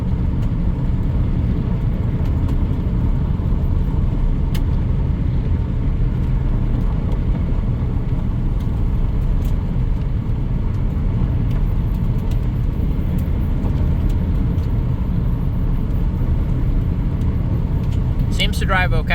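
A 1993 Plymouth Grand Voyager SE, revived after 18 years, driving down the road, a loud continuous low rumble of engine and road noise heard from inside, steady throughout.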